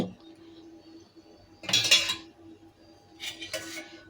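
A lid goes onto a metal pot of cooking lentils and greens with two short metallic clinks and rattles, separated by a quiet pause over low background hum.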